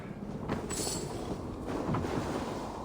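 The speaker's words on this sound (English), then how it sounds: "Windy." Wind blowing in the Assassin's Creed Valhalla video game, a steady broadband rush that swells and eases a few times, with no talking.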